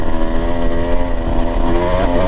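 A Husqvarna TE 150 TBI dirt bike engine climbs a hill at about quarter throttle, a steady, loud, buzzy drone that holds close with slight shifts in pitch and no talking.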